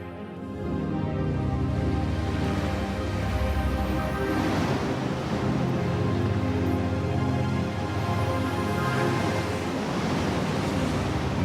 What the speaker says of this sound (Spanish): donde el viento y el mar se comprimen formando un embudo que agolpa toda la mar de Alborán.